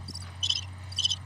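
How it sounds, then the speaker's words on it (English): Cricket-style chirping from a sound-effect button on a live sports-betting show, in three short bursts over a steady low hum, with no voices. "Crickets."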